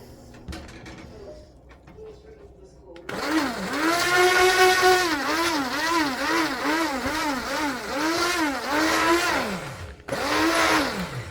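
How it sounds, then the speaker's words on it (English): A stick blender whirs loudly and steadily, its pitch rising and dipping in repeated waves as it works through thick liquid soap mixture, with a brief cut near the end. "My stick blender is getting super hot."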